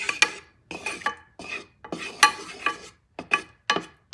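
A veal rib chop is pushed around a hot pan, giving irregular scraping, clinking strokes of metal against the pan at close range with no talking.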